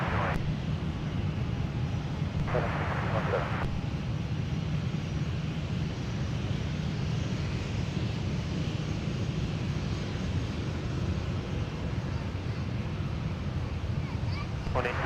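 A jet airliner on final approach to runway 12 right at Minneapolis–Saint Paul airport gives off a steady, broad engine roar that holds throughout, with brief radio-like voices cutting in near the start.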